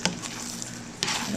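Creamed asparagus being stirred in a pan on low heat, a short run of soft scraping and gentle sizzle with a couple of louder spoon strokes, close and with no voices.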